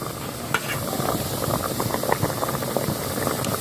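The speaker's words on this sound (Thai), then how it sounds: "เ่เดือดเต็มที่แล้วนะคะ" Thai curry of cha-muang-style leaves (khi lek) with red ant eggs bubbling at a full boil in a pot, a steady close hiss and burble with soft scattered pops, no voices.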